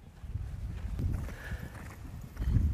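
Horse hooves at a canter during a flatwork riding exercise: soft, rhythmic clip-clop footfalls on an arena surface, fairly quiet and continuous, with a faint distant whinny-like tone in the middle.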